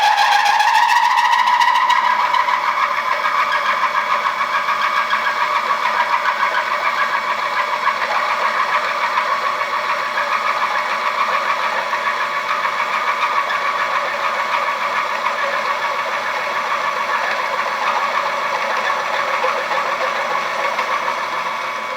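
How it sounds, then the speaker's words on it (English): Hole saw boring into steel for a big twin motorcycle rear motor mount, a loud continuous grinding whine with a rising pitch at the start that settles into a steady harsh drone. "All right, let's hole saw. Okay. It doesn't sound pretty in the beginning"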